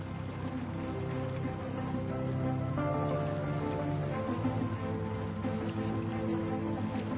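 A motorboat moves across the water in the Kampung Air water village, its engine a faint, continuous drone with a layer of splashing and rushing water underneath.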